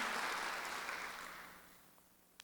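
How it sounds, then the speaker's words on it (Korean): Applause from a church congregation during a Sunday worship service, a broad wash of clapping that begins strong and fades steadily, a few isolated claps near the end. "박수를 한번 더 해주세요"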